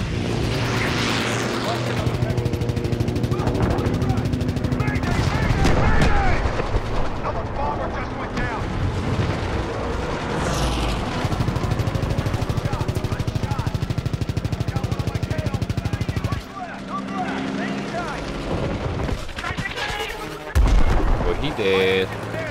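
Call of Duty WWII combat plays as a dense, continuous wall of gunfire, explosions and droning aircraft engines, loud throughout, with a heavier blast near the end.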